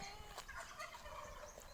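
Quiet domestic turkeys on a farm gobble in short rattling bursts at a distance, a couple of calls over faint background noise.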